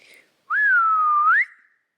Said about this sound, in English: So I try and use the whistle. It's meant to be like the recall.